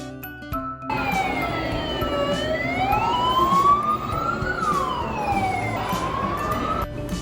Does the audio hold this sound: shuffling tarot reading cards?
no